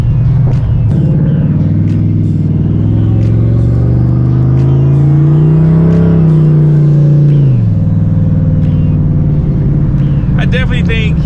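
A turbocharged SN95 Mustang's engine drones loudly and steadily from inside the car while driving, its pitch climbing to a peak and then dropping back, with faint chatter of other sounds near the end.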